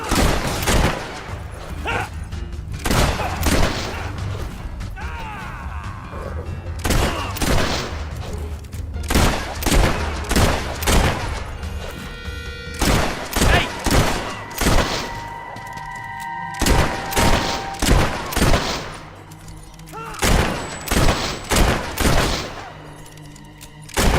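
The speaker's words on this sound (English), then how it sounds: "Suckers shooting at us!" Enemy gunfire during combat in the fantasy game Fable III, many loud, sharp shots arriving in irregular clusters over a long stretch, some in quick pairs, with short gaps and faint game sounds between volleys.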